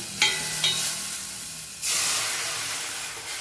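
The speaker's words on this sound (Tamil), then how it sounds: "இப்போ நான் கரைச்சி வச்சுருக்க ரசத்தை ஊற்றிக்கிறேன்." Tomato rasam is poured into a hot pan and erupts into a loud, steady sizzle, with a second surge of hissing partway through.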